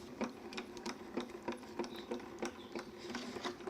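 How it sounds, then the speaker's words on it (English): A Grand Calibur die-cutting machine cranking card through, making a quiet, regular clicking and ratcheting with evenly spaced mechanical ticks. "run it through the grand caliper."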